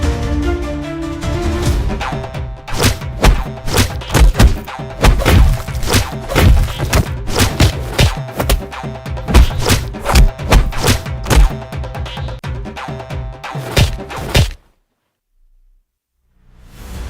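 A flurry of heavy thumping blows during a beating, dense irregular thuds and whacks landing in rapid succession for about fourteen seconds before stopping abruptly into silence.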